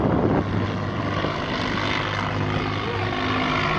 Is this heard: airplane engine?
yes